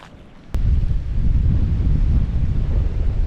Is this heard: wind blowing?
yes